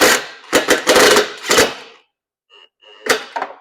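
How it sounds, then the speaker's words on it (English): Screws are driven into the plastic control box of an actuator bracket setup by a powered driver: several short, close buzzing bursts run together, then a pause and two more brief bursts. "So now I'm just going to put my 2 bottom screws in."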